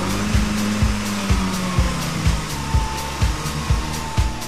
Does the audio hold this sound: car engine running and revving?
yes